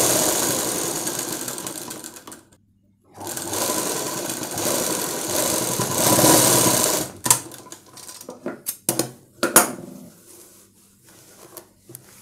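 A sewing machine stitches a blouse in a tailor's shop, whirring in sustained runs with a brief pause, then breaking into short stop-start bursts toward the end.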